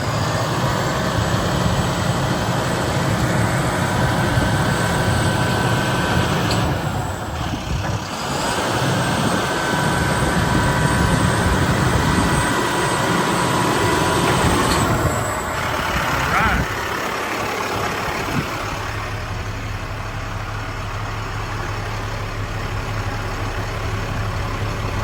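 A 4x4 International 7300 bucket truck with an Altec boom runs steadily nearby while its outriggers deploy, a loud continuous engine drone with hydraulic whine and shifting tones, and a voice speaks briefly over it.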